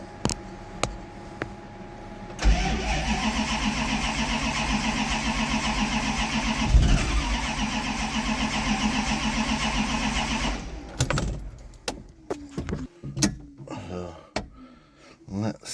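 An old Mopar car engine with an ignition spark problem cranks, catches and runs roughly for about eight seconds before cutting out, followed by scattered clatter and voices.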